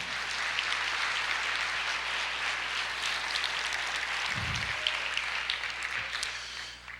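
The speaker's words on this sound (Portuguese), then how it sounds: "Você pode aplaudir o Senhor?" Church congregation applauds in a broad, steady wash of clapping that fills the room, moderately loud with a low hum underneath.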